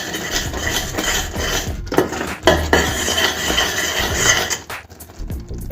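A spoon steadily stirs ghee into a coconut burelu mixture in a metal pot, giving continuous close scraping and clinking with brief pauses and no voices.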